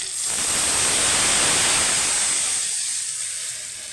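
Water poured into a hot pan for a Bengali hilsa fish curry, a loud hissing sizzle that bursts up at once, stays strong for a couple of seconds, then fades into a quieter simmer.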